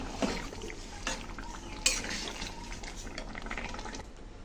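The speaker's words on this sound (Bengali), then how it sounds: "সব কিছু দিয়ে আবার ভালো করে মিশিয়ে দিচ্ছি।" Bengali shukto, a mixed vegetable dish seasoned with cumin, is stirred in a cooking pot. A spoon scrapes and knocks against the metal, with soft sizzling and wet vegetable sounds underneath and no speech.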